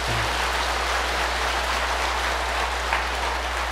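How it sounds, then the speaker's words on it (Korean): An assembled congregation at a Buddhist dharma talk applauds, a dense, steady wash of clapping that continues evenly over a low constant hum. "박수가 필요합니다"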